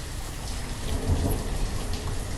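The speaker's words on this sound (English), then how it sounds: "That's a lot of rain and thunder." Steady rain and a low rumble of thunder in the video game Banished make a continuous, dense hiss with a deep rolling swell in the middle, with no talk.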